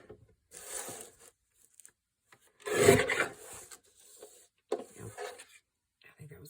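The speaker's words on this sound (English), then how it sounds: "I think I'm going to just take my trimmer and just clean that off." A trimmer tool scrapes and cleans off an edge during a craft project, giving quiet, intermittent rasping rubs with one louder scrape in the middle and gaps of near silence.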